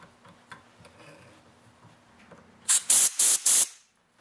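Four short, loud hissing bursts of oil sprayed onto a Briggs & Stratton lawn tractor carburetor during a flooding repair, following a few seconds of quiet workshop background.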